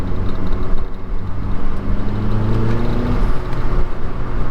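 A 2012 Mazdaspeed 3 engine holds a loud, steady drone near 3,000 rpm, its pitch climbing gradually as it pushes into boost, heard from inside the car with no talking.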